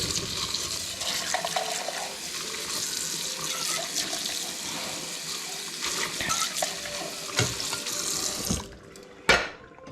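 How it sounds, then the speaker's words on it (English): Running tap water pours steadily into a kitchen sink as black beans are rinsed, a continuous close splashing rush that stops abruptly near the end, followed by a brief clatter. "Again, with the black beans, I wash them."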